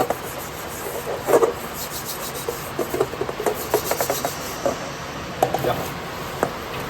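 Scrubbing on a burnt cooking pot crusted with charred rice: close, rough rasping strokes in uneven bursts, with brief faint voices in the background.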